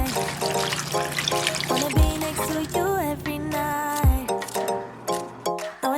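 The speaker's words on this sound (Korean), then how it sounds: "나머지를 부어줍니다." Liquid is poured into a pot while home-cooking a Japanese dish such as oyakodon or miso soup, a continuous close trickle with light kitchen clatter and dishes, short tonal clinks scattered through.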